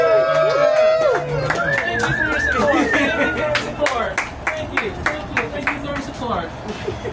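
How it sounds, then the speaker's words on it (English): A comedy club crowd at Grumpy's Underground in Orlando claps and cheers for a comedian, with a dense burst of applause early on that thins into scattered claps, while crowd chatter and a voice run through it. "Clap it up for him."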